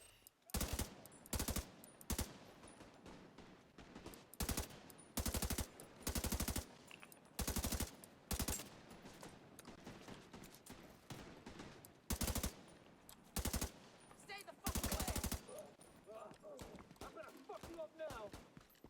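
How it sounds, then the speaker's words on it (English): Rapid bursts of video game gunfire crack out repeatedly in short volleys, loud against a busy background with a voice talking underneath. "So again, hear some gunshots there."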